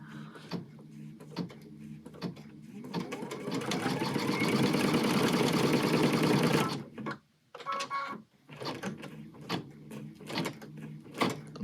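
An embroidery sewing machine stitches an in-the-hoop bag with a steady, rapid needle chatter that runs loud for several seconds, breaks off, then resumes in short bursts amid handling clicks.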